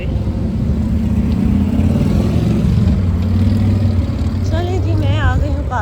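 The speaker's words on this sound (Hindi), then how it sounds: "हॉर्न पे हॉर्न बजते हैं यहाँ पे" Dense night street traffic in Karachi, a steady low rumble of car and motorcycle engines revving and passing close by, with a raised voice talking over it; distinct horn blasts are not evident.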